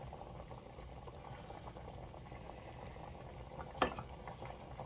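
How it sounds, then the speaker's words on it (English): Beef short rib braising liquid of stock and garlic boiling in a pot, a soft continuous bubbling and simmering with a brief sharp clink of metal near the end. "All right, so now it is boiling."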